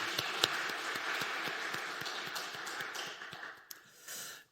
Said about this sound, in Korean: 우리 환영하는 박수 한번 하도록 하겠습니다.